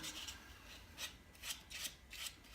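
A brush scrubs a Smith and Wesson M&P Shield pistol part before Duracoat refinishing, giving quiet, close raspy strokes in a steady back-and-forth rhythm of about five passes.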